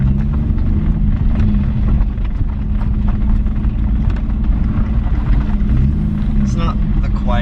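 A car with a short shifter drives around the block, its engine giving a steady, moderately loud drone with road and wind noise throughout, while a person talks over it.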